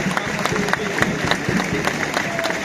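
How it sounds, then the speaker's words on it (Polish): Spectators at a Stal Sanok football club ceremony applaud their captain Piotrek, producing brisk, dense clapping with sharp individual claps standing out, while voices murmur underneath. "Brawa dla Piotrka"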